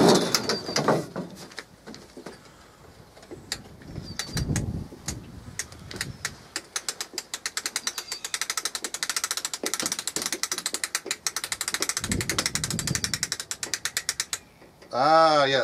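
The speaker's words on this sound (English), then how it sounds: "All right, so now I'm gonna start cranking it open." A hand crank turns open a Cobana patio umbrella with solar LED lights, giving a long run of fast, steady ratcheting clicks from a gear mechanism, close and fairly loud, with a few louder clunks early on.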